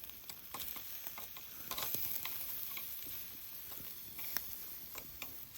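Meat grills over charcoal at a summer barbecue, a faint, steady crackling sizzle with scattered soft pops and ticks throughout.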